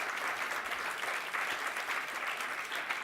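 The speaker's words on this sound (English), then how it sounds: "Can we have some applause for that statement?" A steady, full round of audience applause at a speaker series talk, many hands clapping evenly throughout without a break.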